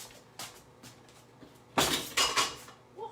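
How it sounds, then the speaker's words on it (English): Metal cutlery clatters and rattles in a kitchen drawer as a knife is pulled out for a croissant-baking session, with faint clinks followed by a louder cluster of jangling metal and dish noise, close by and with no talk. "Now let me get a knife."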